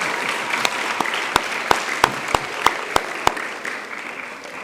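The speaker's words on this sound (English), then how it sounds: "Give them another round of applause." Applause from an audience at a primary school mental maths competition, a steady wash of clapping with several sharp, distinct claps standing out near the front, fading slightly toward the end.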